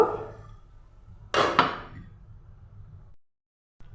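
A lid is set onto a pot of papaya halwa cooking in milk, giving a sharp double clatter of metal, then a fading ring and quiet.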